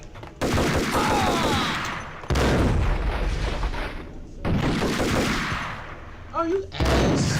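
Loud, close gunfire fills a Max Payne shootout, with three long sustained volleys of rapid shots, booming hits and brief gaps, while someone shouts and talks over the barrage.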